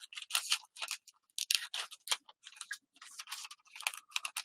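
Scissors cut through paper in quick, close snips, a rhythmic crisp crunching in short bursts with brief gaps between them, quiet overall with no talk.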